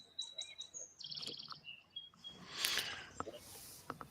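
Birds chirping in short bright tweets and trills, fairly faint, with a few separate calls and some low background noise.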